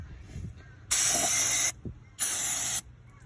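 Brake cleaner sprayed onto the rotor and pads of a 2012 Mercedes-Benz W212 E350 during a brake job: two loud, steady aerosol hisses of under a second each, separated by a short pause, close up with no talk.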